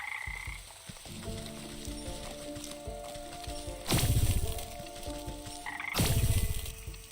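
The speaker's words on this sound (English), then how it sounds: "I need some frogs." Frogs croak in a swamp in the Wytchwood video game, with steady, layered croaking and two louder bursts standing out over a continuous ambient bed.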